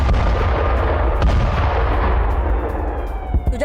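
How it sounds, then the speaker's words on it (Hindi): Russian howitzer artillery fires shells, a loud rumbling boom with a heavy low roar that fades over a few seconds, followed by fainter thuds near the end. "रूस ने होवित्जर तोपों से गोले बरसाए"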